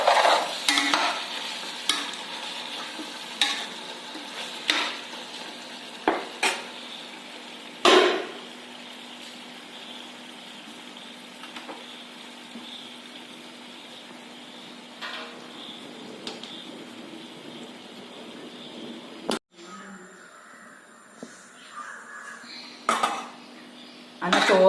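Rice is tipped into a home-cooked chicken mandi pot and stirred, with repeated scraping and clinking of a utensil against the metal pot, soft sizzling beneath, and a few sharp knocks along the way.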